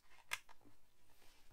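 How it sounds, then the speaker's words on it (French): Scissors snip through a piece of white paper for a handmade card, one sharp crisp cut followed by a few softer snips, quiet and close with no voices. "je viens découper un morceau blanc."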